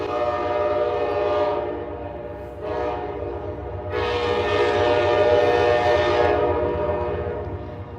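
A train rolls past outdoors, its loud rumble and clatter swelling and easing across several seconds, with a harsher surge near the middle as it goes by close.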